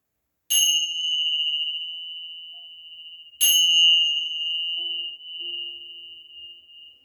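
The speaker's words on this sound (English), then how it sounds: "Let your mind, your body, and your soul absorb the vibrations of the bells" Two bells struck during a yoga session ring out about three seconds apart, each a bright ding with a long, pure sustained tone that slowly fades, with faint low sounds underneath the second ring.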